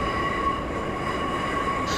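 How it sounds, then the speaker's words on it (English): A Class 142 diesel multiple unit coasting in Train Simulator 2015 gives a steady, loud rumble of wheels and running noise with a thin constant whine, continuous throughout with no talk. "I'm now just going to allow the train to continue to coast towards Dinsdale station"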